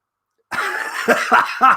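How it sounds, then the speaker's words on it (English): A sore-sounding cough: three or four close, rough coughing bursts following a short breathy sound after half a second of silence, heard alone. "It does sound sore, that cough."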